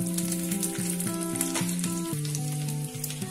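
Grated coconut fries in a pan with ginger and garlic for Malabar mutton masala, making a continuous soft sizzle. Louder tonal music plays over the sizzle for the whole stretch.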